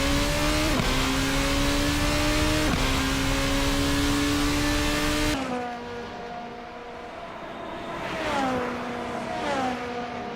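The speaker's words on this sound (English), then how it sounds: "i4 engines, turbocharged i4 engines." Loud, continuous turbocharged four-cylinder race car engine revving at high pitch in a video game race at Motegi, rising and falling with gear shifts, one car joined by others passing in the second half.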